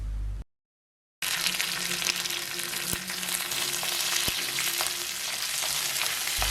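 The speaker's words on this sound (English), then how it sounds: "Once the oil is hot enough, add the mustard seeds, then the coriander seeds, the garlic and the cut green chilies," Mustard seeds, coriander seeds, garlic, green chilies and curry leaves frying in hot oil, a dense continuous sizzle and crackle close up with a few sharp pops, after a brief silent gap at the start.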